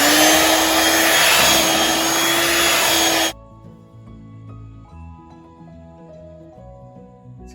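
An electric mixer whirs at low speed through chocolate cake batter, a steady loud hum that stops abruptly after about three seconds, leaving faint kitchen clatter.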